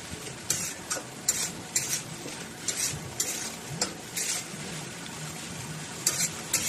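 Hilsa fish head with salt, turmeric and chilli powder stirred in a pan over a soft sizzle, punctuated by repeated rhythmic scrapes and clinks of the spatula against the metal, close up.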